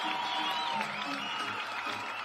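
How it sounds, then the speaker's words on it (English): A competition crowd cheers and applauds throughout, a dense, continuous wash of clapping and voices at steady loudness from start to finish. "The crowd loving every second of this one."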